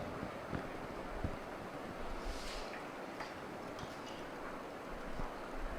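Boiling hot water is poured over herbal tea ingredients in a steady, rushing hiss that runs unbroken for several seconds, close and even in loudness.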